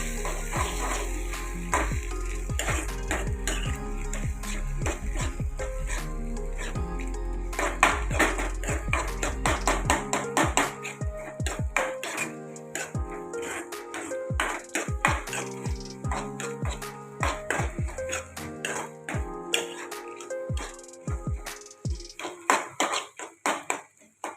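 Goat brain fry being stirred in a pan: repeated close metallic clinks and scrapes of a spoon against the pan over a low sizzle that fades after the first half.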